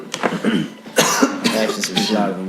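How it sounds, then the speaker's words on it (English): A man coughs in a few rough bursts, close to the microphone, with voices breaking in around the coughs. "I'm coughing"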